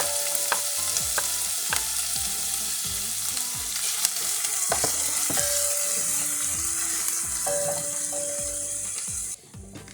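Garlic and onion frying in a pan, a steady bright sizzle with repeated clinks of a utensil stirring against the metal, close and continuous before cutting off abruptly near the end.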